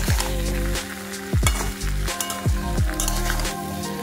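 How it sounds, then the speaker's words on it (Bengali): Potatoes frying in a pan with chili powder, cumin powder and turmeric, a steady close sizzle broken by a few stirring scrapes, with no talking. "আমরা ভালো করে আলুটা কষিয়ে নেব।"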